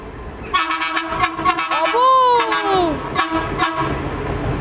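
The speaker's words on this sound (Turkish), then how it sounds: "Çünkü fark etti mi direkt korna çalmaya başladı." A loud TCDD train horn blares with a long, wavering tone at Selçuk, Turkey, preceded and followed by rhythmic clatter of a passing train, with people talking nearby.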